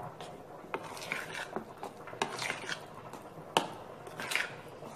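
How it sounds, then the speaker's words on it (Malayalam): Wheat flour unniyappam batter being mixed in a bowl, with irregular soft scrapes, taps and clicks of a spoon against the sides, close and fairly quiet. "അത് വേണ്ടിയിട്ട് നല്ല പോലെ ഇത് മിക്സ് ചെയ്തെടുക്കണം."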